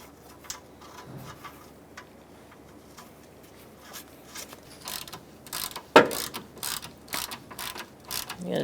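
A hand ratchet tightens a line nut on the radiator of a 2007-2017 Ford Expedition with the 5.4L V8, giving close, quick bursts of metallic clicking with small knocks in between and no talking.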